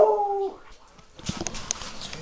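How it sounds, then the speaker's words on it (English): Dog whimpering near a 1983 Toyota cabover truck being rebuilt, a short high whine at the start followed by shuffling and faint rustling close by. "And my dog."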